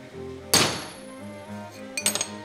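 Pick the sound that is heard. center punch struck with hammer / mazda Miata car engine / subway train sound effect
center punch struck with hammer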